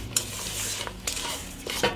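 Three eggs being stirred in a bowl with a utensil for a honey cake batter, quick close scraping and light clinking strokes in a steady rhythm, with no talking.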